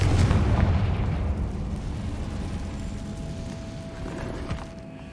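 A Confringo fire spell in the Hogwarts Legacy video game goes off as a deep rumbling explosion, loud and close at first, then a boomy tail that slowly fades with faint debris.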